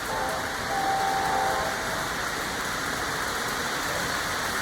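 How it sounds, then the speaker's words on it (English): A model train whistle, operated from a transformer, gives a faint, thin steady tone for under two seconds, sitting over a continuous hiss of background noise before fading out. "It allows you to control whistle."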